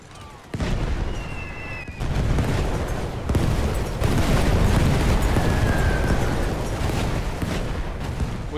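Grenade explosions in a First World War battle by a river in the video game The Great War 6.0, a continuous loud roar of overlapping blasts and gunfire with several sharp onsets, no talk.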